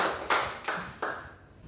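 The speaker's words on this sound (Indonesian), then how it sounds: "Ya, tepuk tangan buat Ari" Three crisp, evenly spaced claps ring out in a quiet classroom as a class applauds a student who answered a question, each one decaying before the next.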